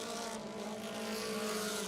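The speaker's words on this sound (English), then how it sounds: "Well, you can hear that car revving up pretty high" A race car engine revs high at a dirt oval speedway during a race, a loud, sustained whining drone with steady harmonic tones, rising slightly in intensity over two seconds with no talk.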